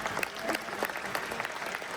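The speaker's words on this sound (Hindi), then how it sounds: "भाई इब्राहिम, एक बार जोरदार तालियां बजाइए।" Brief applause from a mushaira audience in Dubai, a short burst of scattered clapping with uneven, crowded hand strikes over a couple of seconds.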